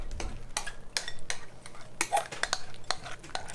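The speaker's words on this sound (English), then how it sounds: "Now we're gonna stir it." Glue and liquid starch being stirred into slime in a bowl, giving a close series of wet scraping and clinking strokes with an uneven rhythm, and no one speaking.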